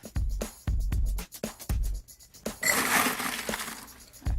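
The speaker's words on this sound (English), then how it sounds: "So then we'll fill it all the way up with ice." Ice cubes dropped into a cup for an Old Fashioned cocktail, a series of sharp close clinks and knocks followed by a rattling, crunching pour of ice, no talk.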